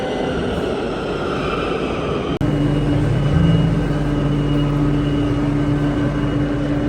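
Loud continuous rumble of a metro train, with a sudden shift partway through and a steady hum and tonal whine as it rolls in.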